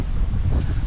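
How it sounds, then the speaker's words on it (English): Strong wind buffeting the microphone at a beach campsite on Assateague Island during a windstorm, a loud continuous low roar with surf rumbling underneath. "It's very windy, so somehow we managed to pitch our tents."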